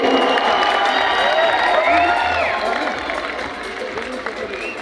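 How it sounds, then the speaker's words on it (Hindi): A crowd in a conference hall at an anniversary event applauds and cheers loudly, with dense clapping, shouts and whistle-like tones, fading a little near the end. "जोरदार ताली यो नानीहरूको लागि, पञ्चकन्या नानीहरूको लागि"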